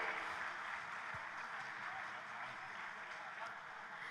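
Audience clapping at an award function in Kovilpatti, welcoming a comedian to the stage, a steady wash of applause held at an even, fairly distant level throughout.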